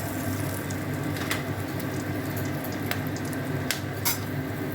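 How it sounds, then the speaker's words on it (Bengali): Whole cardamom, cloves, fresh and dried chillies and bay leaves sizzling in hot oil for a mutton curry, a close, dense crackling hiss with a few sharp pops and spoon clinks, no speech. "এখন আমরা ফোড়নে দেব এলাচ, লবঙ্গ, লঙ্কা, শুকনো লঙ্কা আর তেজপাতা"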